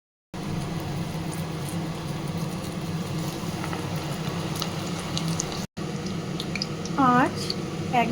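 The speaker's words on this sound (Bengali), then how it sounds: "এবারে খুব আস্তে আস্তে তেলে ছেড়ে দিলাম।" Potato pakoras coated in coriander leaves are eased into hot oil and fry with a low, steady bubbling sizzle, broken by a brief gap and a short tonal chirp near the end.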